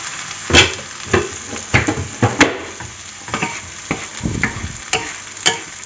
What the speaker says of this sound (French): On va voir ce que font les petits oignons à côté.